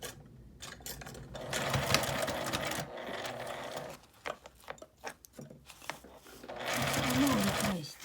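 A sewing machine runs in bursts, stitching a zipper onto matte laminate fabric for a large double-zipper pouch: a close, steady mechanical whirr, pauses with scattered clicks and handling noises, then another sustained run.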